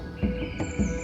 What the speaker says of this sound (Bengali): সবুজ গাছপালার মধ্যে দিয়ে পাখিদের কিচিরমিচির শব্দ ছুটে ছুটে আসছে